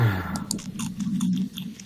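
Chewing and crunching from a character eating dog food in the survival game 7 Days to Die, a short run of close, moist bites and mastication with no voices.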